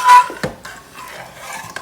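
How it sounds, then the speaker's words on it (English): Garlic being stirred around in a pan while making spaghetti and meatballs, with a few light utensil scrapes and clinks against the cookware at close range and no talking. "So now we're going to add our garlic."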